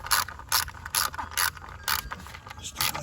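Hand ratchet tightening a plastic MAP sensor bolt on an Infiniti engine: quick bursts of pawl clicking, about seven short runs in a steady back-and-forth rhythm, close and alone.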